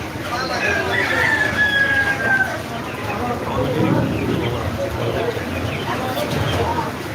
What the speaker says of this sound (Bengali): এটা অনেক বড় একটি মুরগের বাজার